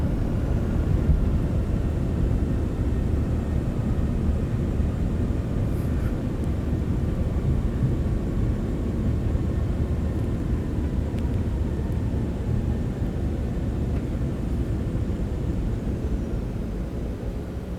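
Steady, broad jet roar from a Citation X in MSFS 2024 as reverse thrust is applied after touchdown, a continuous rushing engine noise holding at constant level throughout with no talk.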